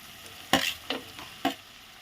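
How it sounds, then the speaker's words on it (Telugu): Chopped tomatoes tipped into a pan with fried onions for tomato dal, sizzling as a spoon scrapes and stirs in three quick strokes over a soft frying hiss. "ఇప్పుడు టమాటా కూడా వేసుకుందాము"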